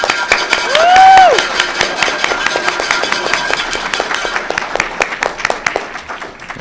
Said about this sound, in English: A round of applause for all of our All-Stars.